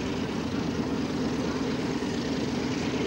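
Hercules aircraft at an air show, a steady, loud propeller-engine drone with a low rumbling hum that holds evenly throughout, heard outdoors from a distance.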